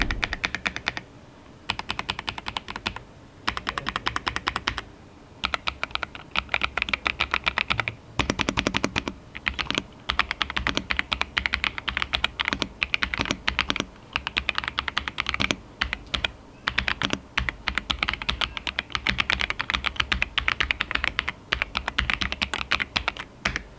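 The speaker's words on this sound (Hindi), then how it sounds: "अब एक बार इसका साउंड टेस्ट देख लीजिए कि टाइपिंग के टाइम पे कैसी साउंड ये आपको देने वाला है" Rapid, continuous typing on a Royal Kludge R75 mechanical keyboard with silver switches: dense, crisp key clicks close up, broken by a few brief pauses, with no voices.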